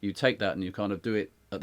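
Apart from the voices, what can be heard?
None of the usual background noises is heard.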